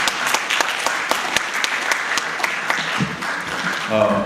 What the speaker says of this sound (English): let's give a round of applause to Mr. Anis Hafa.